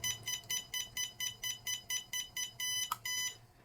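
An RC car receiver gives a rapid series of short electronic beeps that repeat evenly, then merge into a longer sustained tone near the end, fairly quiet and close.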